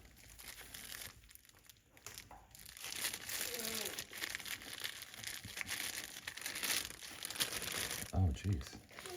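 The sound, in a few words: plastic wrap being unwrapped from a knife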